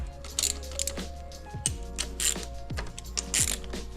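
A socket ratchet clicks in short bursts while transmission cover bolts are loosened on a Piaggio scooter during a drive belt replacement. Close metallic ratcheting and tool clinks sound in a quiet workshop.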